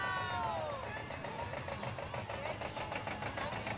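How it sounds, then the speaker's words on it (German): A small Bautz 18 vintage tractor rolls along in a carnival parade, its engine chugging with a steady, busy mechanical rhythm under crowd noise, with a voice briefly audible. "Ein süßer Traktor, ein 18er Bautz."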